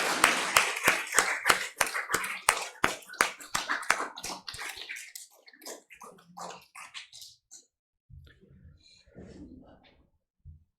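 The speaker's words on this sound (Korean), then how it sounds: "남성교회를 위해서 격려의 박수를 하십시다." A church congregation in Korea claps in encouragement during a worship service, a dense burst of sharp rhythmic claps that thins out and fades over several seconds, followed by quiet low murmuring.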